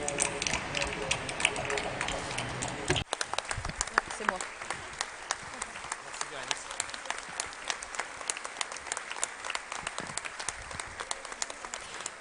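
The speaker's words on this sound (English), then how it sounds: "let's give a round of applause to this work" An audience at the closing ceremony of the 2023 Dakar GSEF forum applauds through a dense stream of clapping that shifts partway in and carries on steadily, with a speaking voice likely heard over it.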